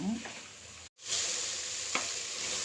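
A spoon stirs food through hot oil in a cooking pan, giving a steady close sizzle with soft scraping strokes, a brief cut-out of sound midway and one sharper clink near the end.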